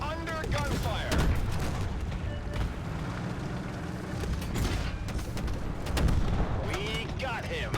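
Tank cannon and gunfire in the PvP video game Tank Force, heavy booms and rumbling blasts rolling through the battle, loud and continuous, with voices talking over the fighting.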